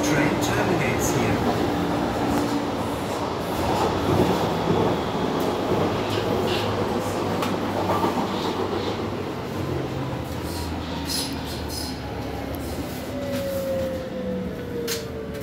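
A Berlin U-Bahn type H01 train runs on line U9 underground, a steady loud rumble and rush with clicks from the track and a rising whine near the end, heard from inside the car.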